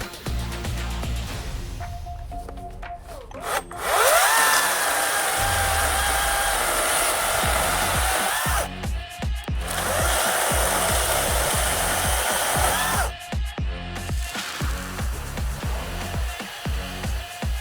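A Greenworks Pro 80V battery chainsaw whines at steady high speed as it bites through dried maple in two long cuts, loud and close, with brief idle pauses between.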